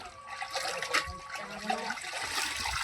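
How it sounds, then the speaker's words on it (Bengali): Clothes are washed by hand with water from a tap, a close splashing and trickling rush with rising and falling swishes, no talk. "বেলায় জামা টামা ধুচ্ছি"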